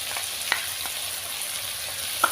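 Ginger and cumin paste frying with jackfruit and prawns in a pan, a steady close sizzle with a couple of sharp utensil clicks as it is stirred.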